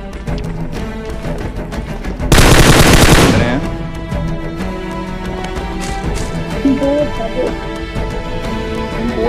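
Loud automatic gunfire from PUBG Mobile: one dense burst of rapid shots lasting about a second, heard over steady game music.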